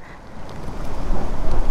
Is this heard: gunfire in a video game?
no